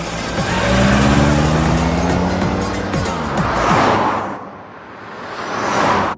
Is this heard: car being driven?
yes